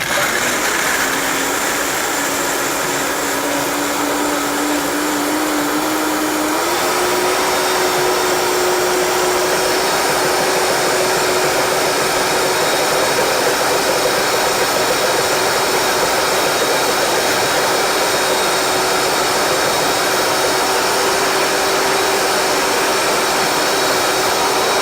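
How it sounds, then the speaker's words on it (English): A Vitamix blender whirs continuously at high speed while blending a vegan ranch dip, its loud steady roar rising slightly in pitch partway through and holding for the rest. "pretend like you're attacking the Vitamix and it'll be just fine. You have to use it with some force, but okay, we'll blend this up."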